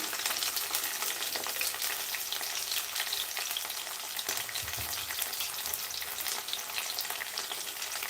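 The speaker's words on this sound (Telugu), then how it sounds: "కరివేపాకు వేస్తున్నాను" Curry leaves crackle and fry in hot oil for a ridge gourd curry, a loud dense hiss with sputtering pops running steadily throughout, no talk.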